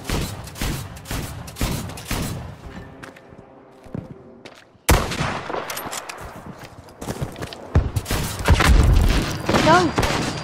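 Rapid bursts of gunfire and explosions crackle in a Battlefield V game scene, with a quieter lull midway before heavy shooting resumes.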